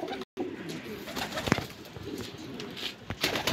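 Pigeons cooing close by in a loft, soft repeated coos over a busy, noisy background with a few sharp clicks and brief knocks.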